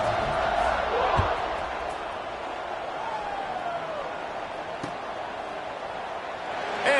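Crowd buzzing in a football video game after a score: a steady, broad stadium murmur throughout, with a couple of brief thumps and a commentator talking over it.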